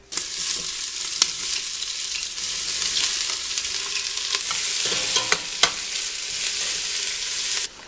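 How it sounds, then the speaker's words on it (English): Onions sautéing in hot olive oil for a spaghetti sauce, a continuous bright sizzle with occasional clicks and scrapes from stirring, close and steady throughout. "Little olive oil, get it hot, saute my onions"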